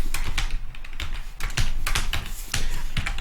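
Quick, irregular keystrokes on a computer keyboard, close and fairly loud, clattering in short bursts with brief pauses and no voices.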